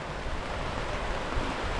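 Bendigo Creek runs high after heavy rain, giving a steady broadband rush of flowing water with some wind noise and no talking.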